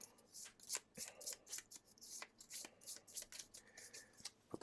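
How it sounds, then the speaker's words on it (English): Tainted Grail board game cards being shuffled by hand, a quick run of soft riffling and snapping bursts repeating close by at low volume, with no talking. "go ahead and shuffle these up"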